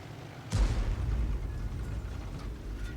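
An SU-8 self-propelled gun in a tank video game fires a single artillery shell, a sudden heavy boom that trails off into a long, low rumbling decay.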